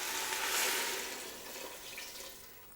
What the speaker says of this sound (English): we're going to add our liquid into the pot